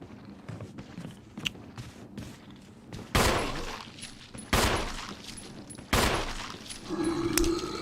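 Gunfire in the video game Resident Evil HD: three loud, sharp shots spaced a second or two apart, each with a decaying tail, over faint background game ambience and scattered softer clicks.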